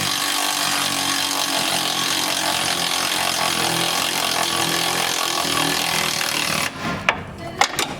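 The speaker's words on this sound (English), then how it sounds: "So go ahead, Bill, just tighten that up." Power tool tightening Rockarmor rock slider bolts on a Nissan GU Patrol Y61, a loud continuous broadband whir holding steady for most of the time, then cutting out near the end, leaving a few sharp clicks and knocks.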